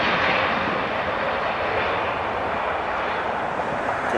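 Heavy jet aircraft landing or taking off at LAX airport, a loud, steady engine roar that fills the whole stretch without letup and no voices.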